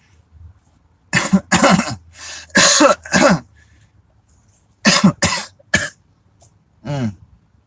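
A person coughs repeatedly in close bursts, a cluster of harsh hacks, a pause, then a few more coughs and a throat clear.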